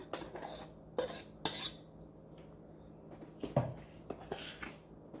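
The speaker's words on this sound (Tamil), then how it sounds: "சுகர் பவுடரை இதில் நல்லா கலந்து விட்டுக்கோங்க." A spoon stirs powdered sugar into ground moong dal in a bowl for laddu, with a few sharp clinks and scrapes of metal against the dish separated by quiet pauses, close and fairly soft.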